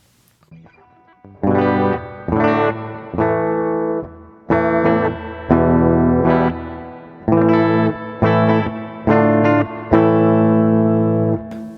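Epiphone Les Paul electric guitar chords strummed one after another through effects, loud and close, each chord ringing out before the next, with no voices.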